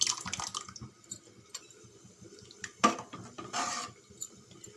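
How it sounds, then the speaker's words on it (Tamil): Sambar of toor dal and moong dal bubbling in a pot or cooker, with soft irregular simmering, drips and light clinks of kitchenware, close and fairly quiet. "இங்கே பாருங்கள் சாம்பார் நல்லா கொச்சிடுது"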